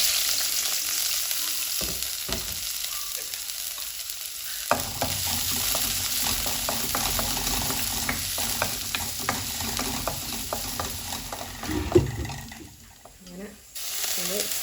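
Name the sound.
shallots frying in coconut oil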